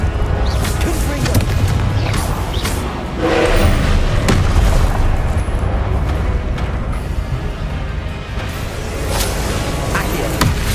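Repeated booming spell blasts and whooshes from the Confringo fire spell in the Hogwarts Legacy video game, loud and dense with combat effects layered over a low rumble throughout.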